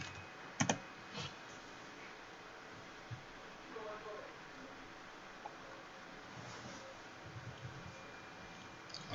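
Keys clatter on a computer keyboard as the ssh-keygen command is entered, scattered faint clicks with a louder burst near the start, set against a quiet room hiss and some voices.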